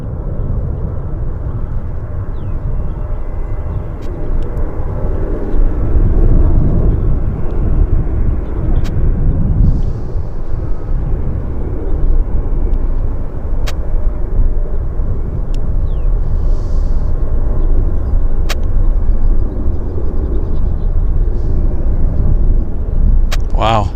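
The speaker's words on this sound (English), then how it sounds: "Very cool departure on the Lufthansa." A Lufthansa airliner taking off from YVR airport, its engines a loud, sustained roar and rumble that swells and stays strong throughout, with no talk over it.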